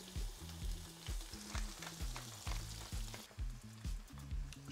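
Shrimp sizzling in a hot pan after being flipped, bright frying crackle with faint pops, close and fairly quiet, with no speech.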